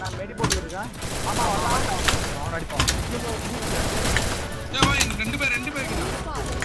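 Rapid bursts of gunfire from a Free Fire ranked match in clash squad mode keep going throughout, layered with game effects and a loud background mix.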